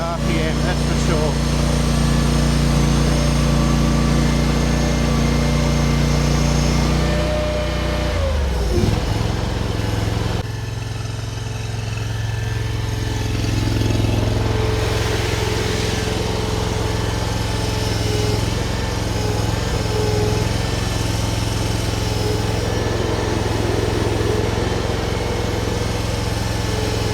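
Derette DRT450 small engine, new and on its first run, holds a high-RPM steady buzzing drone throughout, dropping briefly in pitch partway through before settling back to a sustained whine.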